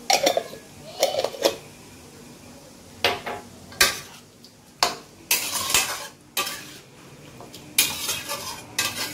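Ground black pepper is stirred into chicken in a metal pot while cooking lemon pepper Gondhoraj chicken. A utensil makes repeated, irregular scraping and clanking strokes against the pot with a faint sizzle underneath.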